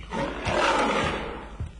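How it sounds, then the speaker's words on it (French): A lion gives a deep, drawn-out roar that swells and fades over a couple of seconds, loud and close, followed by a short grunting breath at the end. "En Éthiopie, un lion, au lieu de répondre, se contenta de rugir."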